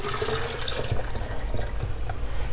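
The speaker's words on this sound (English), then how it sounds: "I'm gonna let that drip for a minute." Water drains and drips from an emptied phytoplankton culture jar, a close, continuous trickle with scattered droplet splashes over a couple of seconds.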